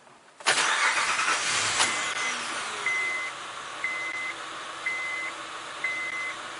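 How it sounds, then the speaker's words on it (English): A car engine cranks and catches with a sudden burst, then settles into a steady idle while a short electronic beep repeats about once a second. "Now let's turn the engine back on, and you'll see this unit power on its own."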